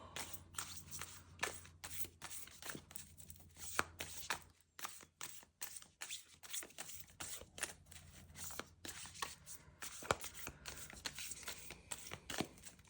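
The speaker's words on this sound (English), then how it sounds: "I think I'm just going to shuffle and then stop and take one off the top." Close, quiet tarot card shuffling: soft papery riffles and flicks in irregular bursts, with brief pauses between handfuls.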